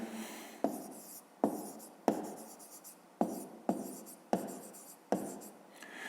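A pen scratches across paper during a fifth-grade maths exercise, several short quiet strokes each starting with a sharp tap and trailing off, repeating in an uneven rhythm.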